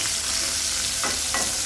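Small onions frying in a pan with cashews and peanuts, giving a steady close sizzle with a couple of brief stirring scrapes, no voices.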